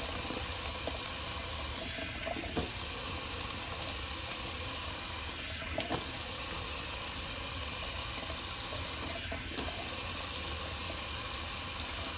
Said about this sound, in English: let's do a little cold water rinse, as much as we can get the cold water to be